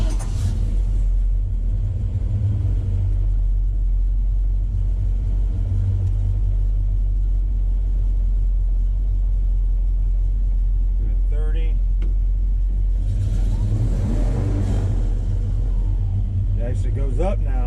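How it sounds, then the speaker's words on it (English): A 1977 Chevy K10 truck's engine idles with a deep, loud, steady rumble throughout and rises briefly as the throttle is opened, while someone talks over it. "We're gonna go ahead and fire it up and see if we can find any more leaks."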